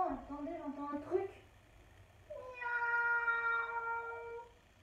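A voice imitates a cat's meow, first a wavering call and then a longer, drawn-out meow, close and clear.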